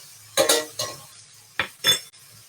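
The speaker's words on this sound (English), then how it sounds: "I think I'll baste it." Meat being basted in a pan, heard as a few sharp metallic clinks and scrapes of a spoon against the pan in separate bursts, with a faint low sizzle between them.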